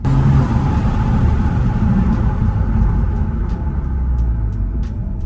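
A 2020 Toyota Supra drives along with its brakes hot from bedding in, giving a steady, loud engine and road rumble with no one talking.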